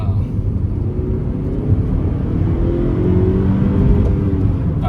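Engine of a 2009 Toyota Corolla XRS with a five-speed manual, revving high around 6,000 RPM as a loud, steady, near drone with a low rumble and faint rising whine, heard from inside the car.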